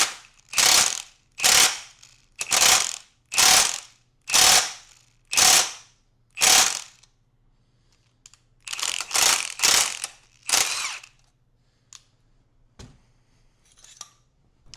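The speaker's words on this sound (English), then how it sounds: "let's try just to hit it with the impact here" A pneumatic impact wrench hammers at a stubborn bolt on a Honda 400ex ATV: seven loud, evenly spaced rattling bursts, a pause, then three more close together. Faint clicks follow.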